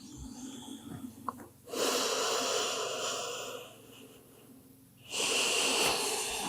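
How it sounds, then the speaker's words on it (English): Long, slow, deep breaths in a quiet prenatal yoga session, two broad airy exhalations swelling and fading over several seconds each, close and soft, with no talking. "Long, slow, deep breaths, breathing in love to you and your baby"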